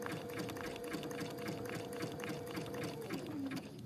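A sewing machine stitching a reverse applique holiday bloom, a quiet, even run of rapid needle strokes humming steadily throughout before easing slightly near the end.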